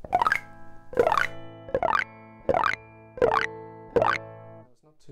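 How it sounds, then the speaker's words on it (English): Six electric guitar rakes, the pick dragged across the strings in quick ascending sweeps about once a second, each ringing briefly before the next. "I just kind of hold the pick like that and just rake it across the strings"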